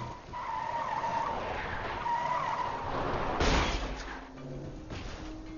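A car in the Borderlands 2 video game skids and squeals as it is maneuvered out of a tight parking spot, with engine whine, a sharp burst of noise midway and game effects, fairly quiet overall.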